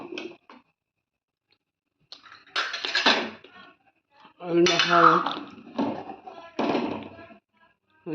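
Metal pot and utensils clank in several short bursts while chushi puli pitha cooks for a festival, with quiet gaps between the clatters and some faint voice-like sound mixed in.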